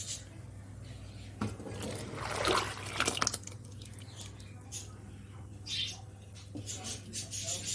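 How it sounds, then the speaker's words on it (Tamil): Cooked lentil water is poured into a pot of rasam in a short splashing gush, over a steady low hum with faint chirps in the background. "நம்ம வந்து வேக வச்ச பருப்பு தண்ணியை இதில் சேர்த்துடலாம்"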